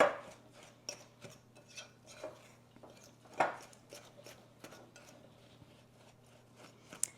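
A dinner-sized fork stirs pumpkin crisp batter in a bowl, giving faint, irregular scraping and clinking taps at close range with quiet pauses between strokes.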